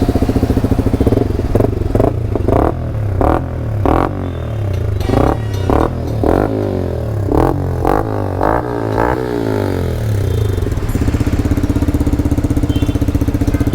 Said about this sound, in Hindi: तो ये था डीबी क्लियर का साउंड।